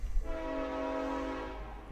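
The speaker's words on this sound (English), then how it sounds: "I'm about to have a train passing somewhat near my house" Train horn blaring near a house, a long steady multi-tone blast lasting over a second over rumbling rail noise, loud and close.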